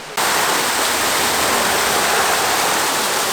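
Water runs from a hose in West Virginia, starting abruptly and then holding a loud, steady hiss and rush that continues to the end.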